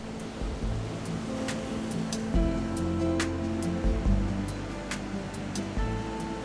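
Violent waves break on the Caribbean coast of Costa Rica, a continuous loud wash of surf with sharp bursts of spray and crashes scattered through it, no voices present.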